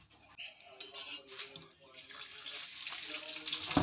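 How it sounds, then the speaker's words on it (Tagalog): Pork hocks being washed one by one under running tap water in a kitchen sink, with a faint splashing trickle and light clinks that grow louder toward the end. "At hugasan na po natin yan sa isa sa ating running water."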